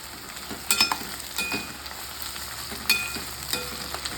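Garlic frying in hot tempering oil, a steady crackling sizzle with several sharp metallic clinks and scrapes of a spoon against the pan, fairly close and alone.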